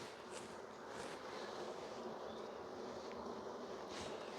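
Dense, steady buzzing of many honey bees swarming around a hive, a continuous close hum that fills the whole stretch without pause, with no voices.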